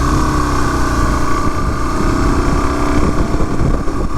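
A Suzuki DRZ 400 dual sport motorcycle riding along a tree-lined back road with sharp corners, its engine droning loud and steady throughout with heavy wind rush, no speech heard.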